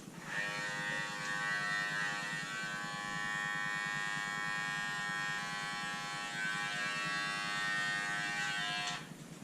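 An electric hair clipper in a barbershop buzzes with a steady, even whine, running continuously at close range before cutting off at the end.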